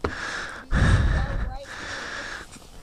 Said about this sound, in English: All you can hear on this video is me breathing.